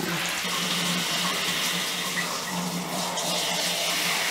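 Steady running tap water pours continuously into a sink, a constant hiss-like splashing at moderate volume with no voices.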